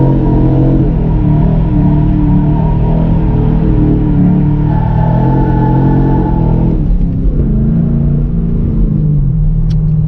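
Old car with an Aussie rear end launching hard on a street, both rear tires spinning as the engine roars loud and close, revs climbing then dropping off.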